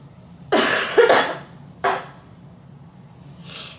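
Two close coughs from a person who is sick, followed by a softer third cough, with quiet room tone between them and no talking.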